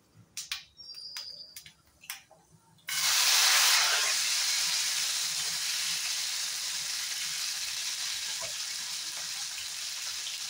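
Chopped tomatoes hit a hot oiled pan for a vindi curry, bursting into a loud, steady sizzle that holds for several seconds after a few quiet kitchen clicks.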